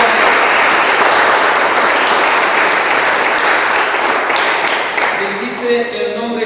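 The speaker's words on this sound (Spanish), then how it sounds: "Den un fuerte aplauso al que vive." A church congregation gives loud, sustained applause during a sermon, a thick wash of clapping that tapers slightly near the end, with faint voices or music underneath.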